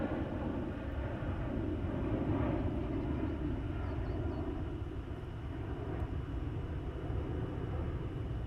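Airplane departing Heathrow Airport, a broad distant roar of jet engines holding steady and fairly loud throughout, no voices.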